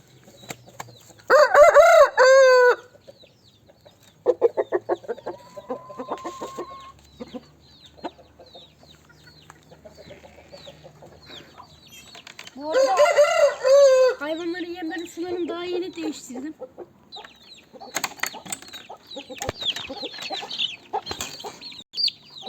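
A rooster crows loudly nearby twice, its call separated by quieter clucks, rustling and brief animal noises.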